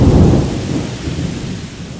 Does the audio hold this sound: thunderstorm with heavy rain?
yes